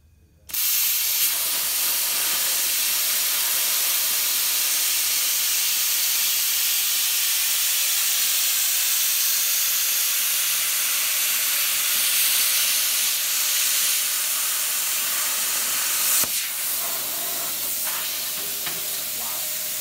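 A Hypertherm plasma cutter fitted with a FlushCut consumable slices through welded aluminum, giving a loud, steady broadband hiss that runs nearly twenty seconds with a brief crackle near the end.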